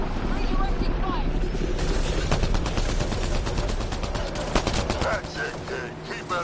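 Dense, continuous automatic gunfire in a shooter game rattles on for several seconds, loud and close, with in-game voices talking over the shooting.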